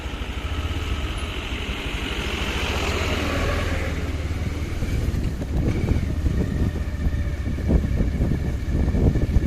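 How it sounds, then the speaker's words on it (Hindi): Motorbike ridden through mud on a hill track at Jampui Hill, with rope tied around the tyres as makeshift snow chains; its engine drones steadily and close, growing rougher and more uneven in the second half. "कीचड़ में रस्सी बांध के चला रहे हैं बाइक को।"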